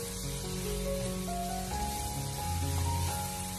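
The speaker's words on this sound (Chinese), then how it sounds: "开大火给它快速的进行爆炒，将所有的食材都给它炒至成熟。" Green beans stir-fried over high heat in a wok, a dense continuous sizzle and hiss holding steady throughout, close and fairly loud, with low steady tones running underneath and no talking.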